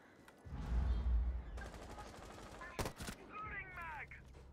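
Gunfire from the Rainbow Six Siege video game: several loud bursts and sharp shots in quick succession, with game sounds and players talking around them.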